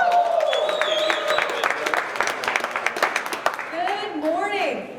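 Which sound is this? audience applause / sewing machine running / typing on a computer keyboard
audience applause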